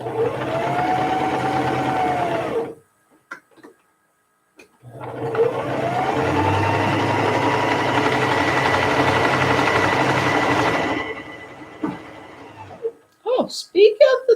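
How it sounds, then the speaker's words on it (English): A sewing machine stitching around quilted dog coat fabric in two long, steady motor runs separated by a short pause, followed by brief clicks and a voice at the end. "sew all the way around it"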